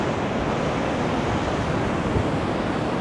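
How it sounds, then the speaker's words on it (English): Rough sea along Blackpool promenade in high wind, waves surging against the sea wall in a dense, continuous roar mixed with gusty wind noise on the microphone, loud and close with no voices. "look at that sea. It is pretty darn rough."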